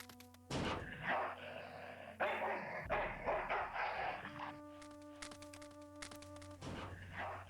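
Dog barking in the video game Full Throttle, a junkyard dog letting out several sharp, loud barks in short bursts over game music.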